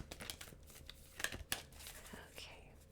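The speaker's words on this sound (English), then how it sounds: "I'm going to shuffle one more time" Tarot cards are shuffled quietly up close, short papery riffles and rustles with a couple of sharper flicks, faint and soft throughout.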